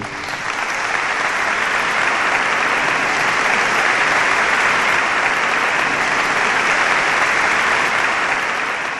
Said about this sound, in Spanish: realmente yo no tenía en mis oídos el sonido de un aplauso grande